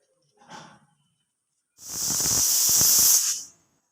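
A pressure cooker cooking chickpeas in a village kitchen gives a short puff, then one loud, close, steady hissing whistle of steam lasting nearly two seconds before cutting off.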